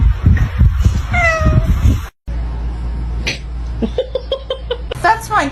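A pet cat meows indoors, a few rising and falling cries mixed with a person's voice talking and exclaiming nearby.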